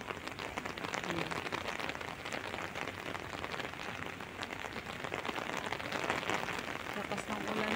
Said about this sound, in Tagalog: Lakas ng ulan pa rin.